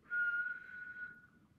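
A single steady whistled tone from a patient during a facial nerve exam, close and fairly quiet, held for about a second before fading, with no talk.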